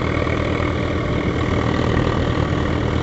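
A Swaraj 744 XT tractor, 52 HP with a 3478 CC engine, drives a 60 HP thresher, giving a steady, loud, unbroken engine rumble with mechanical noise and no voices.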